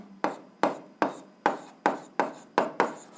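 Someone writes an algebra answer by hand, making a regular series of eight short scratchy strokes about half a second apart, close and fairly loud, with no other sound between them.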